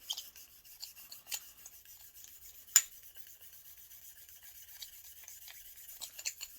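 A brush scrubs the barrel of an FMK 9C1 Gen2 pistol during cleaning: faint, rapid, close-up rubbing strokes with one sharper scrape partway through.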